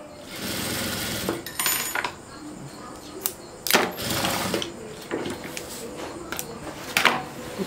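A sewing machine stitches a frufru rug in uneven runs of mechanical whirring and clatter, broken by brief pauses and sharp clicks, close and moderately loud.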